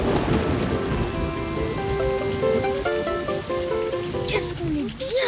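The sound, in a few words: rain falling outside, cartoon sound effect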